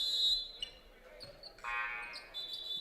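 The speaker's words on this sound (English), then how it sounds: "a buzzer at the scorer's table as the clock is not reset for the beginning of the third quarter" A buzzer sounds from the scorer's table at a high school boys basketball game in a gym. It is a steady electronic tone of about a second, heard against crowd murmur and faint voices.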